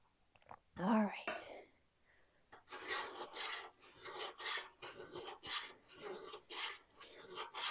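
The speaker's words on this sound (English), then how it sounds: "I have not done this kind of filing for so many years" A metal scissor blade being hand-filed with a file gives a series of rhythmic rasping strokes, close and fairly quiet, after a brief bit of soft speech at the start.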